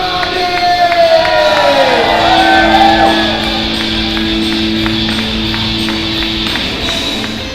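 A live crowd at a gaming expo in Margate cheers and shouts loudly for a game-music covers set, a dense roar with whoops running throughout, while stage music tones sound underneath.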